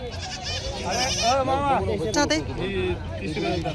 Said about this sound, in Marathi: आणि गावरान शेळी आहे.